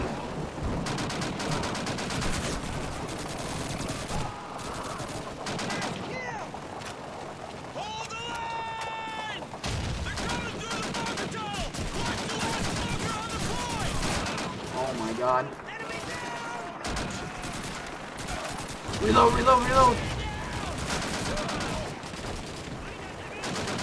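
A machine gun in Call of Duty 2 fires in repeated bursts amid a D-Day battle, the rapid crackling shots mixed with other gunfire and explosions, loud and dense, while a man exclaims excitedly over the action.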